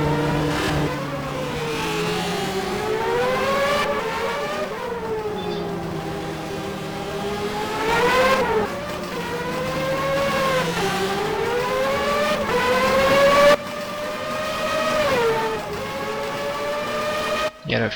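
A DTM race car roars down the straight, its engine note rising and falling through gear changes, loud and close, with further cars whining past and commentary running underneath.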